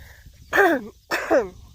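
Two harsh, raspy coughs up close, one after the other about half a second apart, from someone still recovering from a lingering cough.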